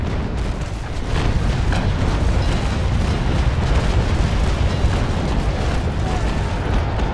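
Ship cannons fire during a large fleet battle in Naval Action, a dense, loud, sustained rumble of overlapping booms and blasts with no clear breaks.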